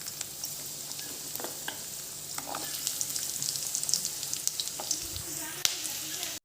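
Jackfruit seeds fry in a pan with taro stolons, giving a steady soft sizzle with scattered crackles and small pops. Light stirring scrapes come through now and then.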